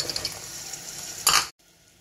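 Broad beans tossed into hot oil with ginger-garlic paste for a curry, giving a steady close sizzle with a brief louder burst of frying and stirring before cutting off to near silence.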